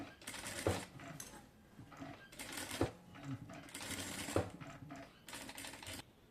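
A sewing machine stitches a garment neckline in short, rapid whirring bursts separated by brief pauses, faint and close, with small clicks as the fabric is turned.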